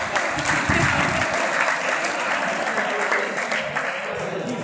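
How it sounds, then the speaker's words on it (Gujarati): An audience at a school farewell ceremony bursts into sustained applause, with dense, loud clapping that holds steady throughout. "તાળી વગાડી દેવા, તાળી."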